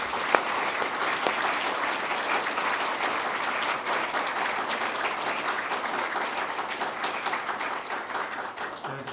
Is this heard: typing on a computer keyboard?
no